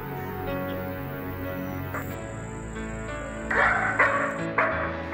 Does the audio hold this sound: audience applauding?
no